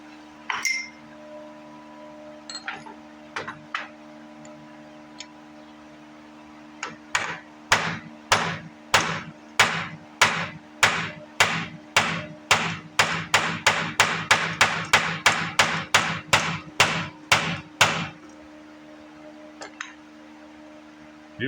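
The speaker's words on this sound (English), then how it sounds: "let me get a punch and a hammer" A long run of sharp metallic hammer blows on a punch while repairing a Bosch VE injection pump, a few scattered taps at first, then about thirty steady strikes speeding up slightly before stopping.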